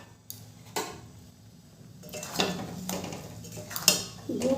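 Metal lid lifted off a pan of simmering plum (kul) pickle with jaggery: a few light clinks and scrapes of metal on metal, sparse and close, against a quiet kitchen background.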